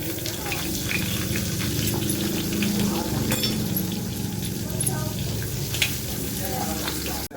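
Panch phoron spices splutter in hot oil for a bhindi curry, giving a loud, dense sizzle with scattered sharp pops and crackles close up throughout.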